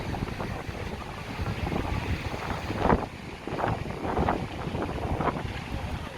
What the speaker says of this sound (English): Wow, super windy.